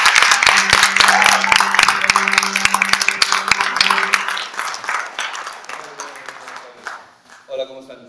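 Audience applause fills a Spanish-language event as a guest is welcomed, dense steady clapping that fades out over several seconds while a voice speaks over it.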